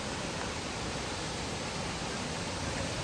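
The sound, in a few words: Huluganga Ella waterfall roaring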